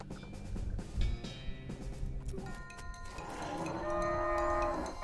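Cows moo in the video game West of Loathing, several drawn-out lowing calls over a busy, rumbling game soundscape, growing louder toward the end.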